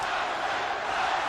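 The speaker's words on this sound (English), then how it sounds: "The crowd is turning." A roaring arena crowd at the Mike Tyson versus Evander Holyfield rematch heavyweight boxing fight, a loud continuous mass of yelling voices with no single clear speaker.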